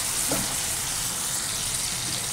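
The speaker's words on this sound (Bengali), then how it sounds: "আলু আর টমেটো আর জিরে ফোড়ন দিয়েছি, এটা ভাজা ভাজা করব" Potatoes and tomatoes fry in a pan with cumin seeds tempered in the oil, giving a steady, even sizzle that holds at a moderate level throughout with no talk.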